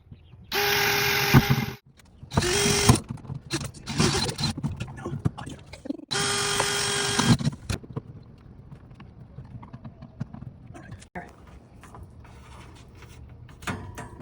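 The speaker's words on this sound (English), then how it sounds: "you're going to pre-drill into the cabinet before you put your screws in" A power drill whines in several short bursts pre-drilling into a cabinet, stopping and starting, followed by quieter handling clatter.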